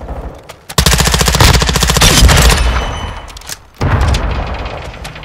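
Automatic gunfire rattles loud and close in a Call of Duty Modern Warfare II multiplayer match, a long sustained burst followed by a brief pause and another stretch of shooting amid heavy booming game action.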